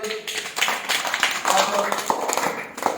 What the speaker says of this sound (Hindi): आवाज तालियां बजाओ।